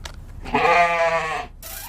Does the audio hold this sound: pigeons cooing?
no